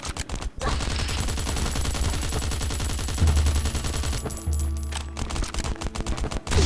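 Rapid automatic gunfire rattles in the survival video game Last Island of Survival, loud, dense bursts of shots firing almost continuously with brief gaps and some heavier booms.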